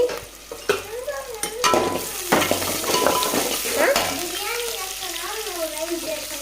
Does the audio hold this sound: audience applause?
no